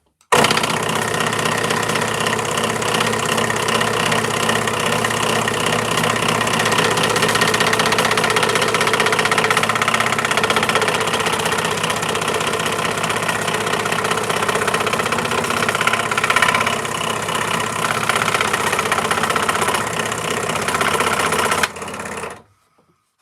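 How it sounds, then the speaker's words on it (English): A bandsaw runs steadily and loudly with a constant droning hum and mechanical rattle for about twenty seconds, then cuts off sharply, alone without talk, in a woodcarving workshop. "I definitely need a bandsaw."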